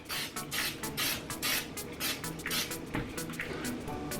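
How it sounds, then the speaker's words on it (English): Cooking spray hisses onto a pan in a series of short, close bursts, one after another, with brief pauses between them. "Almost forgot to spray the pan."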